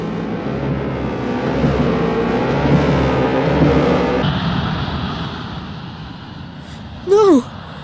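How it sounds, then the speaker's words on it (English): A freighter spaceship's engines ignite and roar as it lifts off from a desert floor, a loud sustained rumbling thrust that builds and then thins. A brief shout cuts in near the end. "freighter lumbers from the desert floor, sand and dust billowing up"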